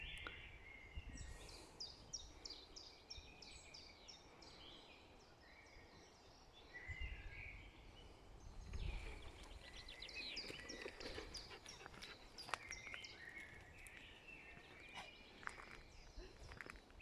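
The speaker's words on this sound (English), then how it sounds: "Just listen to the bird song." Birds sing and chirp in the woods, with clear repeated trills and calls at moderate distance over quiet background, along with faint crunching footsteps and occasional soft thumps.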